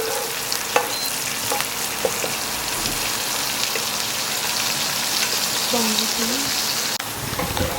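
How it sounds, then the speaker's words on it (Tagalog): Rib eye steak frying in a pan, a steady broad sizzle running throughout at close range, with small clatters and brief voices talking near the end. "Lulutuin lang muna namin lahat ng steak."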